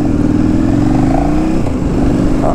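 A KTM motorcycle engine runs close by, a loud steady throbbing idle with a rising rev partway through before settling again.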